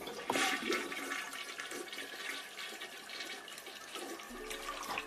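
A toilet flushes in one continuous rush of swirling, gurgling water from start to finish, fairly close and steady, with no voices over it.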